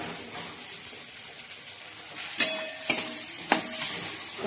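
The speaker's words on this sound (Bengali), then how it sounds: "মশলাটা কষে নিচ্ছি" Spice masala is stir-fried in a pan, producing a continuous soft sizzle close by, broken by three distinct clacks of a spatula against the pan in the latter half.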